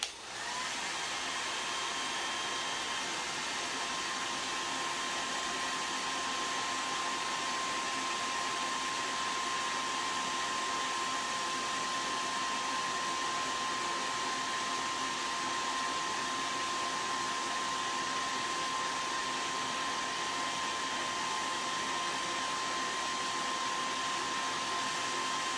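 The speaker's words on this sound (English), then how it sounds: "I'm gonna go ahead and hit this again with my hairdryer." A hair dryer blows steadily to dry acrylic paint on a hand-painted Raggedy Ann face, a loud continuous whoosh with a faint electric whine that holds evenly throughout, with no talking.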